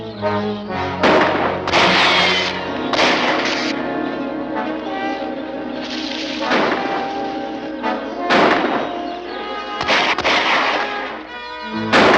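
Gunshots in a jungle shootout from a 1955 adventure film ring out as loud, sharp bursts, some in quick succession, over a sustained orchestral music score.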